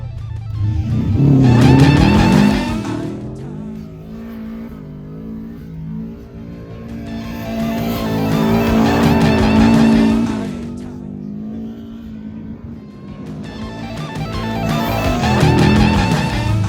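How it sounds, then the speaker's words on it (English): Lifted Subaru STI drifting and doing donuts on sand dunes, its engine revving hard in three long surges with tire scrabble, rising and falling as the car circles nearby. "I don't like drifting this and doing donuts."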